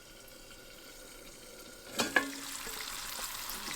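Leftover steak and eggs start frying in a pan at a campfire, a quiet scene that jumps into loud, steady sizzling with a couple of sharp pops and hisses partway through.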